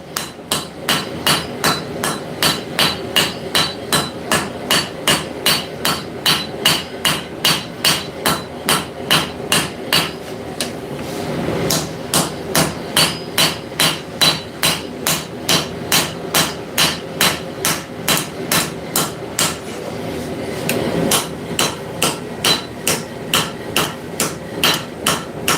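Ball peen hammer forging metal in a workshop, struck in a steady fast rhythm of loud ringing blows with a brief pause midway, close and continuous.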